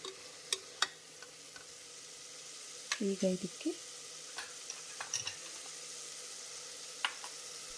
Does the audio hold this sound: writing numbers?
no